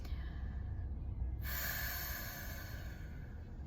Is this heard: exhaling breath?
yes